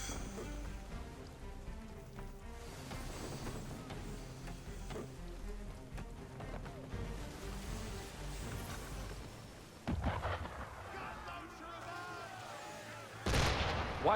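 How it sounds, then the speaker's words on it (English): Cannon and gunfire boom through a battle scene in Assassin's Creed III, the blasts dense and ongoing with a hiss like rain, then a sharper burst near the end. "Why is he shooting at us?"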